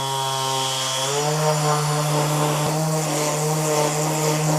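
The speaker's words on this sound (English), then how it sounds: "I'm going to go ahead and increase it to the highest speed and really put some effort down on the sanding pad." A random orbital palm sander with a 6-inch hook-and-loop pad runs at its highest speed with a loud, steady motorized whine that rises in pitch after a second and holds, buzzing continuously.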